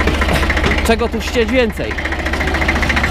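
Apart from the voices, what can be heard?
1965 Deutz D40 tractor engine idling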